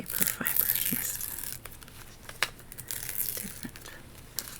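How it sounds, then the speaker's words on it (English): Paper torn slowly along its fibers, a soft, close, crackly ripping with scattered crinkles and small snaps, recorded in a quiet setting. "how it doesn't tear the same in the direction of the paper fibers"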